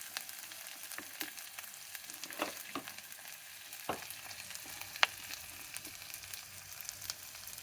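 Onions, green chillies, ginger garlic paste and chopped tomato frying in a pan for a green moong curry, giving a steady low sizzle with occasional stirring scrapes and small pops, close and without speech.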